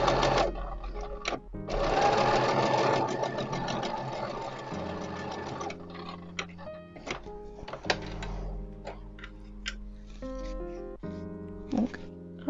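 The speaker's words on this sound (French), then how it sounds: "Ça c'est le rabat de poche, donc je vais faire une couture à 1 cm." A sewing machine stitches a 1 cm seam on a jacket pocket flap, running in a fast continuous burst at first, then in shorter starts and stops with clicks and clanks, close up and with no talking.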